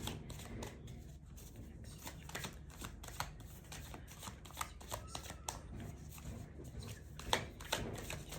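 Tarot cards are shuffled by hand in a steady run of soft riffling and flicking, quiet and close, with no talking.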